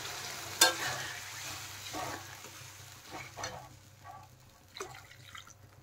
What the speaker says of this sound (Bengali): দেখেন ঝোল কিন্তু খুব সুন্দরভাবে ফুটতে শুরু করেছে।